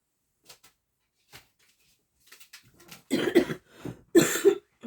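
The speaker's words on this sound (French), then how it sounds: "Excusez-moi, je tousse encore un petit peu." Two close, forceful coughs in quick succession from a person presenting paper cutouts, preceded by a few faint taps and rustles in an otherwise quiet room.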